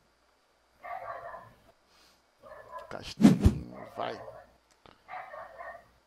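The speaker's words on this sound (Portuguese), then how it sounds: "o cachorro tá nervoso, hein?" A neighbour's dog, one of several kept behind the house, barks in a sharp burst between stretches of nearby talk, with someone speaking over the background.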